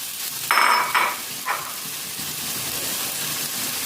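Eggplant frying in a pan with dried fish and tomato gives a soft, steady sizzle, with a few brighter bursts of stirring near the start before it settles into a low, even hiss.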